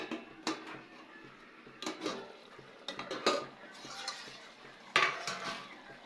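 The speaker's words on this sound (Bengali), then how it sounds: "কিছুক্ষণ পরে ঢাকাটা খুলে দেখতেছি।" A metal lid comes off a pot of simmering Bengali-style pangas fish curry in oil and chili, with a few sharp clanks and scrapes of metal against metal close by in a quiet kitchen.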